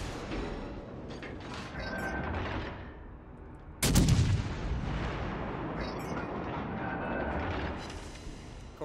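Warship guns boom in World of Warships Legends on Xbox, a heavy salvo blast near the middle standing out over a continuous rumble of engine and mechanical battle noise, with scattered distant shots before and after.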